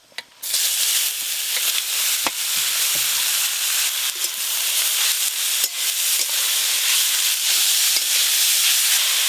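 Cut papaya drops into hot oil with dried chilli and bay leaf, setting off a loud, steady sizzle and hiss that jumps in abruptly after a short quiet moment and holds with small crackling pops.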